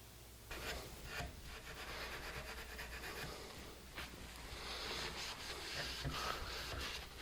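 Cloth rubbing steadily over the top of an old wooden chair, wiping off the old finish, a soft continuous scrubbing rasp with repeated strokes, close and alone.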